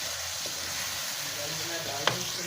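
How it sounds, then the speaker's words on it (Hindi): Chicken pieces coated in dry masala roast in a pan with a soft, steady sizzle, a light stir and one sharp clink of the spoon near the end. "इसको हम अच्छे से भूनेंगे"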